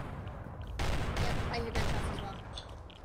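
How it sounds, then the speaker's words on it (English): Gunfire in the survival game Rust, a burst of several shots in quick succession heard at moderate distance amid a dense, noisy game soundscape, fading over a few seconds. "Oh, shots. Yep, I hear that shot as well."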